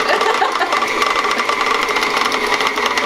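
An electric stand mixer whirs steadily at medium speed, beating butter for frosting, a dense continuous motor hum with beater rattle and no pauses.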